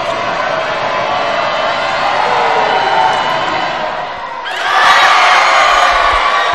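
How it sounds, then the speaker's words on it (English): Javelina home crowd at a Texas A&M-Kingsville basketball game against Commerce, a loud sustained roar of voices that dips briefly then surges again with whoops and cheers. "this Javelina crowd has reveled in nothing more than missed free throws by Commerce tonight."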